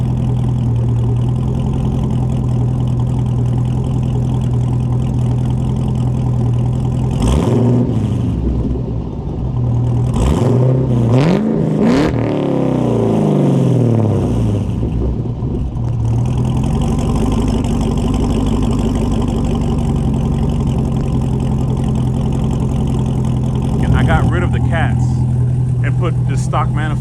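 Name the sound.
Cadillac CTS-V engine revving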